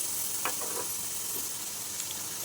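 Ginger garlic paste, ground coconut and spices fry in a pan with a soft, even sizzle, a few faint scrapes of stirring rising briefly above the quiet hiss.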